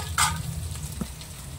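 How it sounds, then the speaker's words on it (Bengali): Potato pieces frying in a pan at a home kitchen, with a steady low sizzle throughout and a brief brighter crackle near the start, moderately close and without talk. "আর এদিকে আলু ভাজাটা এখন চলছে"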